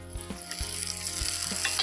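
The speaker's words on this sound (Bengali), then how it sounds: "বাকি মশলাটা দিয়ে দিলাম" Onion and spices frying in a pan sizzle steadily up close, with a few soft knocks of utensils against the pan and no voices over it.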